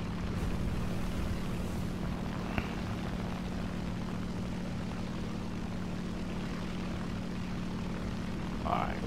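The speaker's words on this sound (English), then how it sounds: "I'm about to fly in with the SB2C1C, one of my favorite planes." An SB2C-1C dive bomber, a propeller aircraft in a video game, flies with a steady, loud engine drone and low hum that holds unbroken throughout.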